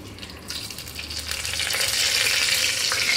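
Whole spices with bay leaf sizzling in hot oil: a steady crackling hiss that grows a little louder and busier as it goes, close by with no talking.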